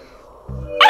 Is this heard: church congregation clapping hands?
no